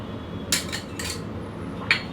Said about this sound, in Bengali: এগুলো একটু মিশাই নিই